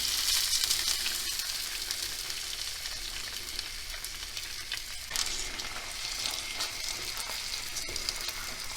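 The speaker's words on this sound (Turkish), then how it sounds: "Şöyle 2-3 dakika pirincimizi kırmadan kavuracağız." Washed rice toasts in a pan for a Turkish green lentil pilaf, giving a steady, close, crackling sizzle with occasional stirring scrapes and small pops throughout.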